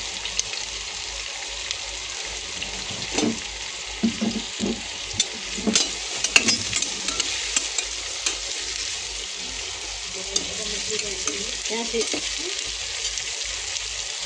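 Chopped onion and whole green chilies fry in a mix of ghee and oil for veg pulao, a steady close sizzle broken by scraping stirs and clinks of a spatula against the pan.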